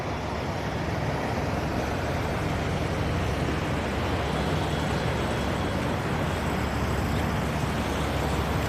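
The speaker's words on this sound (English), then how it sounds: "And a bunch of trucks idling." Several big trucks idle together at a busy highway travel center, a steady, loud low rumble of diesel engines with no break or voices throughout.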